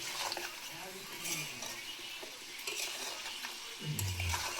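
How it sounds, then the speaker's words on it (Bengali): Meat being stirred in a cooking pot after salt is added, a soft scraping, shuffling texture that runs steadily throughout at low level, with a voice talking over it. "নুনটা দেওয়ার পরে একটু নেড়ে চড়ে নেবে"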